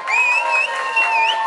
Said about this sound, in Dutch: Mag ik je alsjeblieft een vet applaus, kom op.